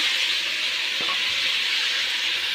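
Dried red chillies frying in a pan as chopped tomato goes in, giving a steady, close broadband sizzle with one brief soft clack of the added tomato and no talking.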